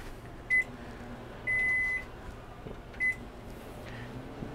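A microwave oven at home, set for a potato, gives three short beeps with a longer tone in between, its hum low beneath them.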